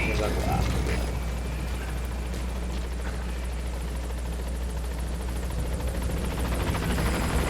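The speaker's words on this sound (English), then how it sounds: "vou pegar um helicóptero" A helicopter arrives at a landing zone in the Metal Gear Solid V video game, its loud, continuous rotor roar and engine hum filling the whole clip, with speech faintly mixed in.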